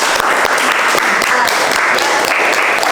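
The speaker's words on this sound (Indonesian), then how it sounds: "Beri tepuk tangannya dulu." A class claps for a student in a steady burst of applause that runs unbroken from start to finish, close and loud, with faint voices mixed in.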